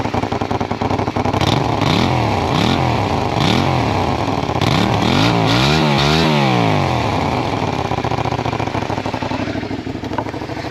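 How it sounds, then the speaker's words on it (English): A throaty Honda VTR 250 V-twin motorcycle engine revs repeatedly, rising and falling in pitch with a loud, close, rumbling clatter; no talking. "it starts off sounding like quite an old school sort of throaty V-twin"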